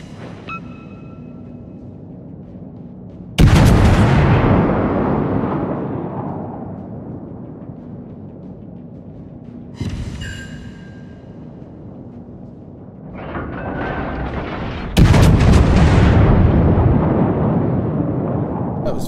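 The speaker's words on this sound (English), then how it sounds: "I was shooting at someone" Heavy naval guns firing in the World of Warships video game: three deep, booming salvos that crack out loud and roll off into long rumbling decays, with steady background drone between them.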